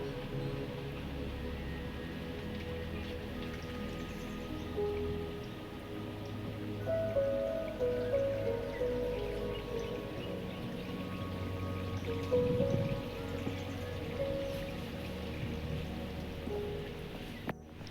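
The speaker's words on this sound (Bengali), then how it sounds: "এবার আমরা এতে ভরপুর জল দেবো" Water poured generously onto a newly transplanted tuberose plant in a rooftop garden, a continuous splashing patter over soil lasting the whole stretch, moderately close, with a faint low hum beneath.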